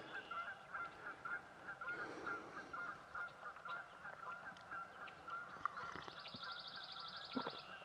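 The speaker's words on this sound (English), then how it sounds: "Canadian geese, they're hooting and a hollering." Canada geese honk repeatedly in the distance on a small lake in northern Michigan, their calls faint and overlapping over a soft outdoor background.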